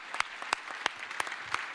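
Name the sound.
applause for the speakers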